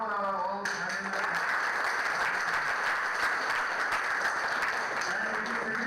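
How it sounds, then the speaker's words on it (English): Audience applause breaks out at an international conference after a brief voice, then steady clapping from a room of people continues at moderate level to the end. "Let us clap for our all management."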